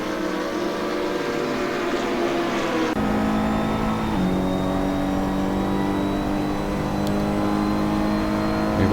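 GT3 race cars in Assetto Corsa at Paul Ricard roar with loud, sustained engines, the pitch stepping up through gear changes as the cars pull away, with no voices.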